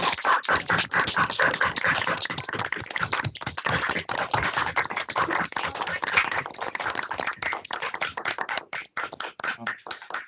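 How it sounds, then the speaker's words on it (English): Participants on a video call clap in a busy, uneven patter of many close, sharp claps, picked up through laptop microphones and varying in intensity over ten seconds. "I think they deserve a round of applause, folks"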